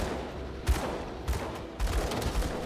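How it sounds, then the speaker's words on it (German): Gunfire in the action RPG Grim Dawn rings out in several sharp, loud bursts spread across a steady, noisy game soundscape, with no talk over it. "Ich schieße auf den Gegner davor"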